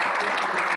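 Audience clapping at a motivational talk, a brief, dense burst of many hands that holds steady and then cuts off abruptly.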